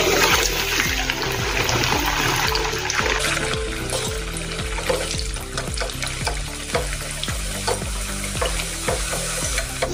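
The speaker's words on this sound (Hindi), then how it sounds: "अभी ये देखो, अभी इसमें हम तलेंगे।" Pooris made with cucumber fry in hot oil, giving a loud, dense sizzle with bubbling and crackling bursts and rhythmic clatters throughout, heard up close with no talk.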